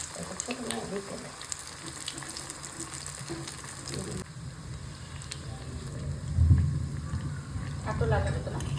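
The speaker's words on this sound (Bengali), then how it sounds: "কচু ভাজা হয়ে গেছে" Pieces of taro fry in a pan with a soft, continuous sizzle and occasional clinks of stirring, fairly quiet, while people talk nearby.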